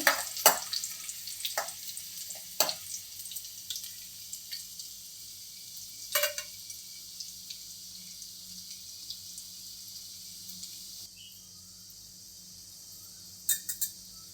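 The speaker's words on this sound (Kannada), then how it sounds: "ಈಗ ಬೆಳ್ಳುಳ್ಳಿ ಹಾಕೋಣ ಬೆಳ್ಳುಳ್ಳಿ ಚೆನ್ನಾಗಿ ಫ್ರೈ ಆಗಬೇಕು" Garlic fries in a pan with a soft, low sizzle, punctuated by a few sharp clicks and scrapes of a spoon against the pan before the hiss drops quieter near the end.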